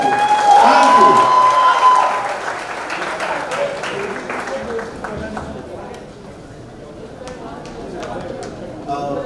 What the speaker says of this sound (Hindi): एक बार हमारे सारे media friends के लिए जोरदार तालियां होनी चाहिए.